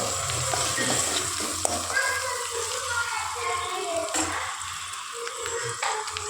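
Onions and green chillies with a little turmeric frying in a pan, a continuous bright sizzle with soft stirring scrapes throughout, close and steady, with no clear speech.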